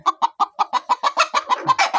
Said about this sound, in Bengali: ডিম পারবে এটা এই মুরগিটা